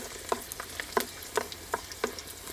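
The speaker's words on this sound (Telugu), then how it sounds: "నూనె వేడెక్కాక కచ్చా బచ్చాగా దంపుకొని ఎనిమిది వెల్లుల్లిపాయ రబ్బులు వేసుకుందాం" Eight coarsely crushed garlic cloves frying in three spoons of hot oil for a ridge gourd and prawn curry, with a soft steady sizzle and a series of sharp, regular spatula-stirring scrapes close by, no voices.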